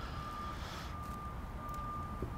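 A car's reversing beeper sounds as it backs into a parking spot, a steady high electronic tone over a low engine rumble, with a sharp click at the end.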